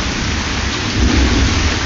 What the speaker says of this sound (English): trying to give you an idea of a summer rain and thunderstorm.